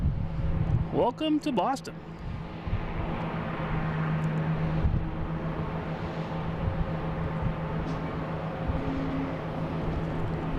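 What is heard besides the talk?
Cabo Verde Airlines plane arriving at Boston Logan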